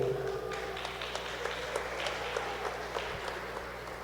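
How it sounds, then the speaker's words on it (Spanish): An audience claps for Professor Juan Caal and Marvin Kish at a Q'eqchi' community gathering on defending territory and rivers. The applause is steady and fairly quiet, with faint voices beneath it. "fuertes aplausos para ellos"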